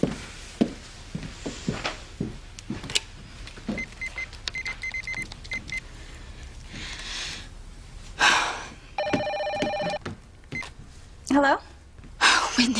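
A telephone rings over the line in a few short bursts of electronic tone, mixed with other background noises, while voices talk in between.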